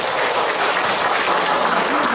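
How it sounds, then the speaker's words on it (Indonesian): Dense, steady applause from a training-workshop audience clapping for themselves, a continuous wash of many hands at close range with no pauses and no talk over it. "tepuk tangan buat diri kita masing-masing."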